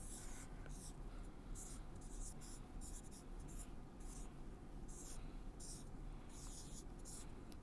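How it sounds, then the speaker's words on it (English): Numbers written by hand during a lecture on public-key algorithms: faint, close scratching strokes come in short repeated bursts over a steady low hiss, with no talk. "So, I am writing all the numbers,"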